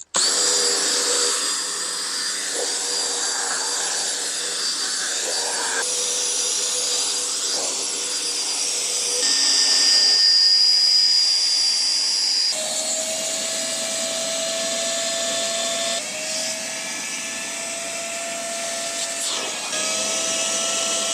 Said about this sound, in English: vacuum out all the grossness with a wet and dry vac